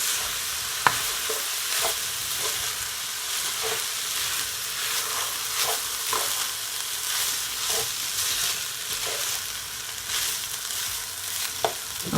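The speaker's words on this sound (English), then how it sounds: "Just gonna stir it all in." Fried rice seasoned with dark soy sauce sizzles loudly in a pan while a utensil stirs and scrapes it, making clicks at uneven intervals over a continuous hiss.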